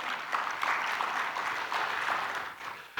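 An auditorium audience applauding during a keynote address, a moderate wash of clapping in uneven surges that dips near the end, heard alone without speech.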